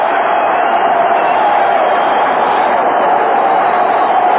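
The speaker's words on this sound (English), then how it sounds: "The crowd in the dome on its feet" A packed baseball crowd roars inside the Astrodome during a Mets at Astros playoff game after a ninth-inning pinch-hit two-run homer, a loud, steady, dense wash of cheering that holds without a break.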